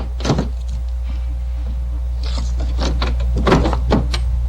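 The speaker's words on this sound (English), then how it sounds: "The tool you're going to use to gain entry to this vehicle is a Slim Jim" A Slim Jim slides inside an older car's door behind pulled-back weather stripping, giving a few scraping, knocking thuds against the lock linkage over a steady low hum, close and fairly loud.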